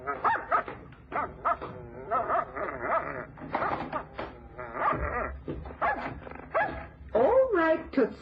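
A dog barks and whimpers close by in a tense indoor scene, short yips and whines mixed in with constant overlapping talk.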